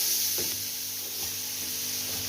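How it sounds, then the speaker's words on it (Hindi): Grated carrots sizzle in melted butter in a pan while gajar ka gajrela is cooked, giving a steady close frying hiss with a few soft stirring sounds. "फिर मैं इसके अंदर वो डालूंगी अपना गाजरें जो मैंने कश की हुई है"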